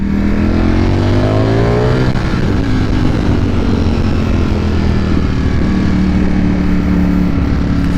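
A Ducati V4 Streetfighter naked motorcycle revs and accelerates loudly up close, its engine tone climbing, dropping at a shift and then climbing again through a continuous roar with no speech.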